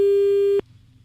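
A single steady electronic phone busy tone after a hang-up holds for about half a second and then cuts off, leaving a faint background hum.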